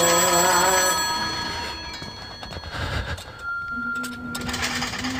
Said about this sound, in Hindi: वो भाई टेलीफोन की घंटी सुनी आपने?